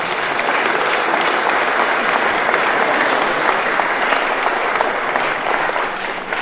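A crowd at a 4-wall handball doubles final gives a loud, continuous round of applause that holds steady for several seconds without a break.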